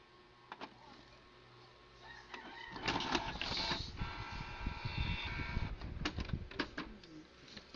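Canon G1010 inkjet printer printing after an ink-error reset, with a whirring motor, clicks and mechanical clatter building from a quiet start into sustained, busy feeding and carriage noise.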